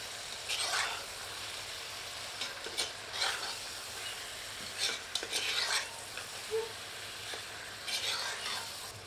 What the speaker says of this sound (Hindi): अब सबको मिलाकर 4 से 5 मिनट मध्यम आंच पर भूनते हैं।